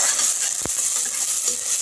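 Onions sizzle steadily in a hot pan, a constant bright hiss with one brief clink of a utensil partway through.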